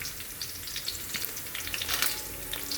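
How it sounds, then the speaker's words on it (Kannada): Cumin and mustard seeds sizzle in hot oil for Uttar Karnataka-style poha, a steady bright hiss dotted with small crackling pops, close and continuous with no talking. "ಈಗ ಜೀರಿಗೆ ಮತ್ತು ಸಾಸಿವೆ ಹಾಕೋತೀನಿ."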